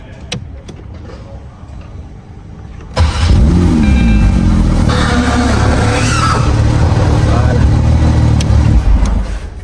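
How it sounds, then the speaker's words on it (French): Porsche 992 GT3 engine fires up about three seconds in after a quiet cabin, catching loudly and settling into a strong, steady close-up idle that continues to the end. "vous allez re-entendre le démarrage avec moi"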